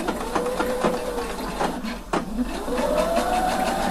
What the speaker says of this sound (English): so I'm just sewing to the first cross point